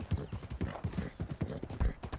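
Rhythmic clip-clop of horse hooves trotting at a quick, steady pace in a PS4 video game, close and clear.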